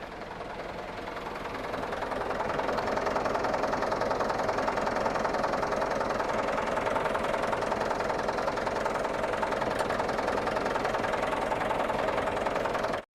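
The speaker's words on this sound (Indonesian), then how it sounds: "kalau untuk bagian mesin, nih teman-teman, suaranya masih garing ya" A 2019 Mitsubishi Canter PS 125 HDV truck engine idles steadily up close, a continuous even rumble with a faint knocking texture that builds over the first couple of seconds and then holds level, with no voices.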